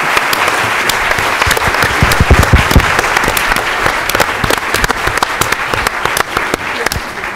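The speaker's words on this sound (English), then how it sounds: "Now you can clap." Loud, sustained audience applause after a moot court argument, dense and continuous with crisp individual claps throughout, filling a room for over seven seconds without speech.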